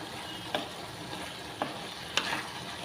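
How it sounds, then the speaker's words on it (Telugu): Chicken pulusu with oil and curry leaves being stirred in a pan, a steady sizzle under three distinct scrapes of the spoon against the vessel, with no talk. "మంచిగా కలిసేలా కలుపుకోవాలండి అంతా."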